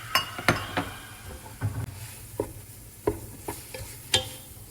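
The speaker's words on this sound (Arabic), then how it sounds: "راح ابلش بالبصل، حاطه زيت، من الثوم، وعلى طول بنزل اللحم المفروم" Minced meat frying with onion and garlic in oil in a pan, with a low sizzle under repeated scraping stirs and light clinks of a utensil against the pan, heard close up.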